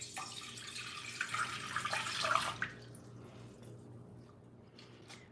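A kitchen tap runs cold water for a couple of seconds with a bright splashing hiss, then shuts off, leaving a quiet room.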